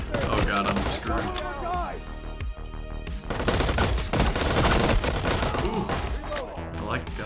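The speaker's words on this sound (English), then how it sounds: "Ooh, I like gunfights, that's intense." Intense gunfight in the game Transience, dense bursts of gunfire and sharp repeated shots crackling over several seconds with a brief lull in the middle, loud and close, with voices mixed in.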